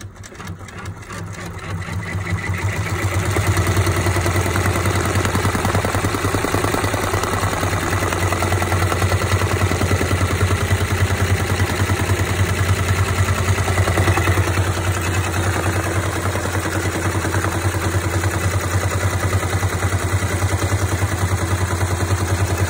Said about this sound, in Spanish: Estoy bordando a 600 revoluciones por minuto.